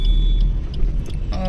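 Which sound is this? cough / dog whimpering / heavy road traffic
heavy road traffic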